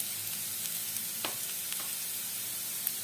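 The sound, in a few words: stirring spices into frying mustard greens in pan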